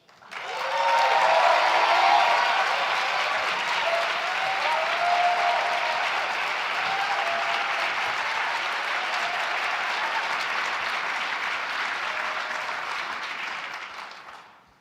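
An audience bursts into sustained applause welcoming a speaker to the stage at a policy event, loud and even for about fourteen seconds before fading out.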